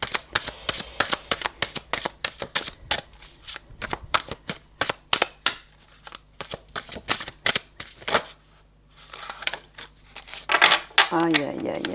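Tarot cards are shuffled by hand in rapid, crisp riffling bursts with short pauses between them. A voice speaks briefly toward the end.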